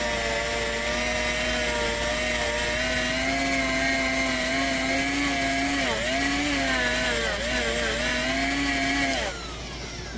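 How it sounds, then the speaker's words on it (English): A wire wheel spins against a KTM 250SX engine part held in a vise, giving a steady, loud, whining grind with shifting pitch that runs nearly ten seconds before dropping away at the end. "I'm now using this wire wheel right here."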